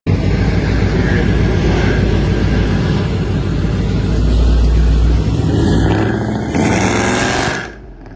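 A Dodge Charger SRT engine revs loudly and close up, with a deep, sustained rumble that swells around the middle, holds, then drops away abruptly near the end.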